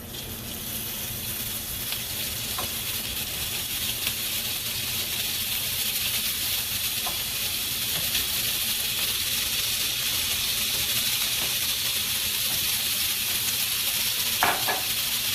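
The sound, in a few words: sausage browning in olive oil in a pan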